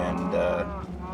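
Cattle lowing on a farm, a single drawn-out moo with a clear tonal quality lasting about a second, close and fairly loud against steady background noise, sounding like a game's farm animal.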